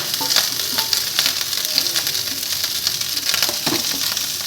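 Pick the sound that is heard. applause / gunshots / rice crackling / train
rice crackling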